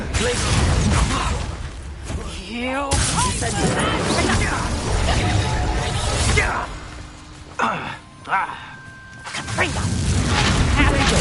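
Repeated Confringo spell blasts in the Hogwarts Legacy video game, loud booming explosions with crashing debris and whooshes, several bursts over the span, mixed with shouted voices from game combat.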